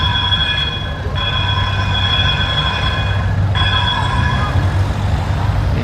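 A tram rolls past on a busy Brussels street, a steady low rumble of wheels on track joined by sustained high tonal whines and squeal that break off briefly, then return.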